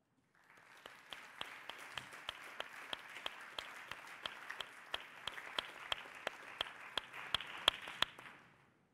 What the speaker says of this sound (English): we'll transmit the claps that you produced to him